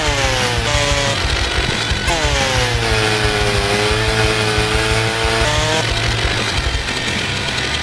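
A chainsaw in the video game Forestry 2017 roars continuously at full throttle, its engine pitch dipping and rising as it bites, loud and close.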